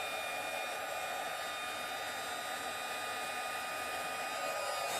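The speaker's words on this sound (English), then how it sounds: "it sounds like a hairdryer." A hair dryer blows steadily and evenly, a constant whirring hiss with a faint high whine, running alone without pause.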